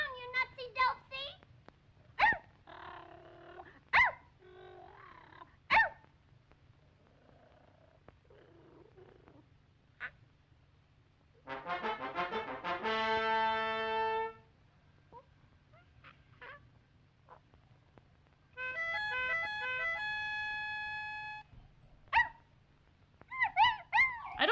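A small cartoon dog in an old Betty Boop cartoon barks, yelps and whimpers in short bursts, with longer tonal whining passages and cartoon voices speaking in between.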